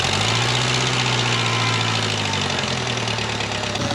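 A 4x4 forklift engine with Dana 70 axles and skid steer tires idles while warming up, a steady close rumbling drone with a slight knock and a small pitch dip toward the end, no talking.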